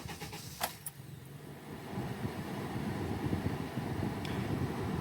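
A 2010 Honda Accord 2.4-liter engine idles steadily after new oil, filter, cam gear and valve cover gasket, a low even rumble with no ticking, faint and continuous apart from a couple of brief sharp clicks near the start.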